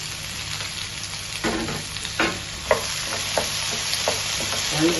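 Tomatoes sizzling in a hot pan with ginger and garlic for green peas masala, a steady frying hiss broken by several sharp scraping stirs of a spoon, with no talking.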